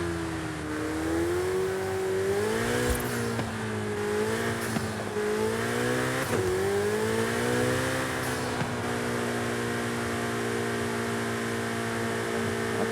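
A car in the racing game Forza Horizon 5 drives steadily with a loud, continuous engine drone whose pitch rises and falls with throttle, a few brief sharp ticks scattered through, and no distinct tire screech standing out.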